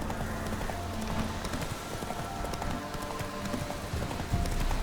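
In The Witcher 3 video game, the horse Roach gallops with steady, rapid hoof clip-clops at moderate volume, layered over a soft ambient game background.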